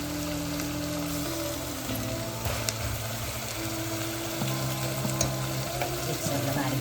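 Onions frying with ground masala in a pan for spicy misal, giving a steady close sizzle with occasional stirring, no voices over it.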